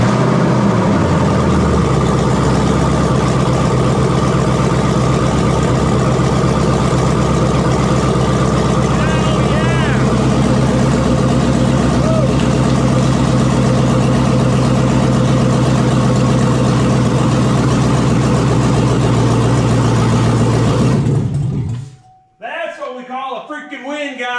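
LS-swapped car engine running loudly and steadily at close range for about twenty seconds before cutting off, followed by a quieter stretch with brief sounds.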